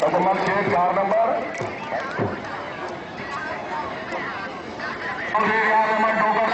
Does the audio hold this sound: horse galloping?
yes